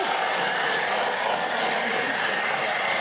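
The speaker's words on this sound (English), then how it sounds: "I'm going to blend it up a little bit. Max power." Blender running at max power on a smoothie made with coconut water and spinach, giving a steady, loud, high-pitched whir throughout with no change in tone.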